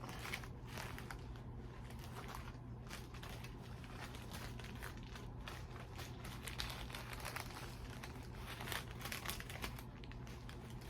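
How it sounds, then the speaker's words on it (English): Fabric rustles and crinkles as a shirt is pulled inside out, a close, steady crumpling texture with soft scattered crackles over a low background hum. "About to take this shirt and pull it inside out."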